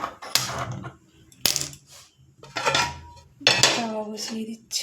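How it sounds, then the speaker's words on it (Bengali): A metal pan or tawa set down onto a gas stove ahead of frying potatoes, with several sharp metallic clanks and rattles spaced across the moment, close and fairly loud, no talking. "তাওয়া বসিয়ে দিচ্ছি"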